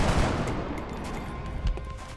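Gunfire in the strategy video game XCOM: Enemy Within, with a dense, noisy burst of shots and a louder thump, set against a continuous roar of battle.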